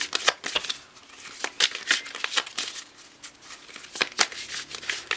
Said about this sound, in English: I'm gonna shuffle on here